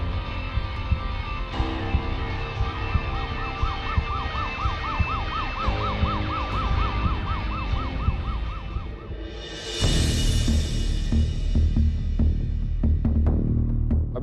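An ambulance siren wails in a steady, rapid oscillating pattern, loud and close, then gives way to louder traffic and street noise with sharp knocks.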